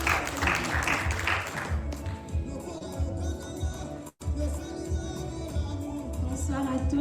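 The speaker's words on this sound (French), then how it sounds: "Quand elle avance, on acclame pour la gloire de Jésus." A congregation applauds during testimony time at an overnight church prayer meeting: a dense burst of clapping at first that thins out beneath voices and room noise.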